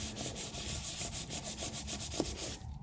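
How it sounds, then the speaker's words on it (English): Sandpaper rubs steadily back and forth across two-tone cardstock in a close, continuous rhythmic scratching of even strokes, with no talk over it. "You also want to move your sandpaper around a bit because if you get too much sanding in one spot, it's not going to be doing its job."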